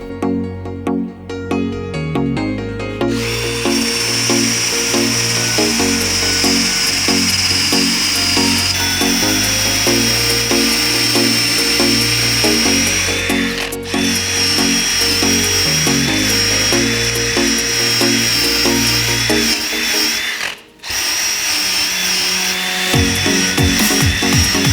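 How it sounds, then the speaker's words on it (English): 3M adhesive removal wheel on a drill working against a Ford Ranger's paint, a loud sustained high-pitched whine with pulsing pitch as pressure changes, briefly cutting out near the end before spinning up again. "to finish removing the adhesive, I'm going to be using this 3M wheel here"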